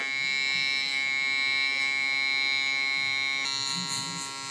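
Electric hair clipper running steadily with its blade in the closed position during a low taper haircut on curly hair, a constant close buzz that continues throughout and dips slightly near the end.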